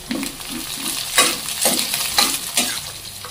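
Corn kernels sauté in hot oil with chopped capsicum for a ragi soup, a loud close sizzle broken by rhythmic spoon scrapes and stirring strokes, about once every half second.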